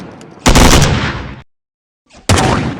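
Gunfire in a video game: two loud, dense bursts of rapid shots, the first about a second long, then near silence, then a second burst starting abruptly.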